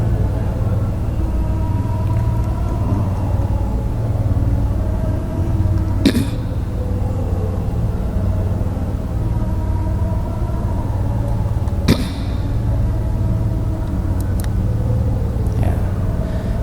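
A bucket truck's engine rumbles steadily at close range, a deep continuous drone lasting throughout with a couple of sharp clicks along the way.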